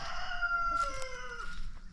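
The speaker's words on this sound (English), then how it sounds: "we have some chickens over here" A rooster crows once nearby, a drawn-out strained call that trails off, with faint clucking and farmyard noise behind it.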